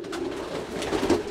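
Domestic pigeons in a Belgian racing loft, among them red and blue pied birds, coo softly in low rolling calls that repeat and overlap, steady and close, with no talk over them.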